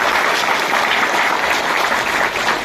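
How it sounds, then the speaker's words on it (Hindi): Loud, dense audience applause at a National Safety Day gathering, a continuous roar of many hands clapping close by with no pauses or voices. "भाई के लिए जोरदार तालियां बजाएं"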